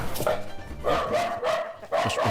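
A golden retriever barks aggressively in an attack, three loud, close bursts of rapid barks with short gaps, over a busy background with some voices.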